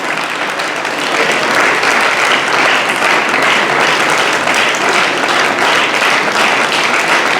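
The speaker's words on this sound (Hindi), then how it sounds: "जोरदार तालियां।" Loud, dense applause from an audience welcoming a guest speaker at a book launch event in Uchana, sustained evenly for the full stretch with no voices on top.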